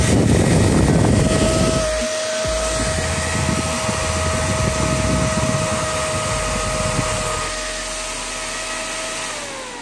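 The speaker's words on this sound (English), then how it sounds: "Now you can test the fan." Small PC fan motor with blade fitted, running on test bench power: a steady whirring hum with a sustained whine, slightly louder and rougher at the start, then a smooth continuous drone.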